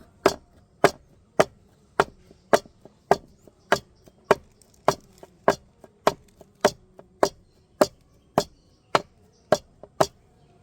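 A bowl of palm cake batter tapped down to settle it, giving a steady series of about twenty sharp, evenly spaced knocks close by against a quiet background.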